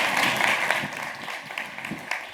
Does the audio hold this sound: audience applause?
yes